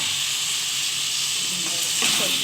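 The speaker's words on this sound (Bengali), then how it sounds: "এরপর আমি সবজিটা তুলে দিচ্ছি।" Vegetables go into a hot pan with curry leaves for a mixed vegetable dish, and a constant loud steamy sizzle hisses throughout, swelling slightly near the end.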